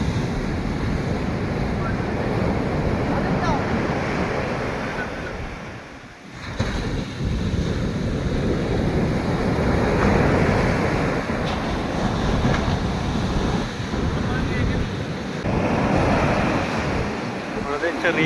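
Ocean surf rolls onto a beach where a fishing catch is being hauled ashore, a steady broadband roar of breaking waves mixed with gusting wind noise on the microphone, continuous and fairly loud throughout.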